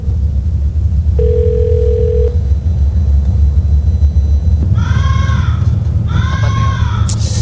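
A phone call rings while waiting for an answer: one steady ringback tone lasting about a second sounds over a constant low rumble, followed later by a few brief higher calls.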